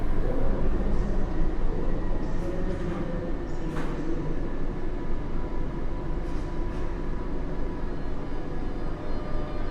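A PKP Intercity ED250 Pendolino pulls away from a platform at Kraków Główny station. A loud, steady rumble of wheels and electric traction with brief high squeals carries throughout.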